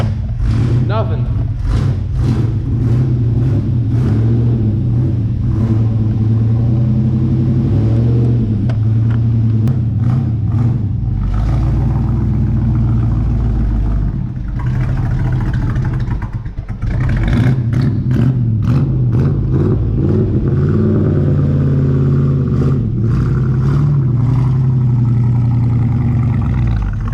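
A deep, rumbling 1964 Chevrolet Chevelle Malibu SS engine idles and revs loudly throughout, with voices talking over it at times.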